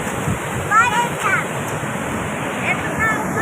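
Water pours into the Bhim Kund pool in Mayurbhanj, Odisha, a close, steady rushing roar with even, unbroken intensity and a few faint high chirps scattered over it.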